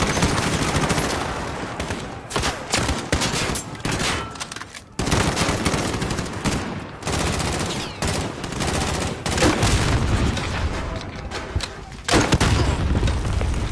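Dense bursts of automatic gunfire and booming shots in the Call of Duty Modern Warfare video game, loud and close, with rapid rattling volleys separated by brief pauses.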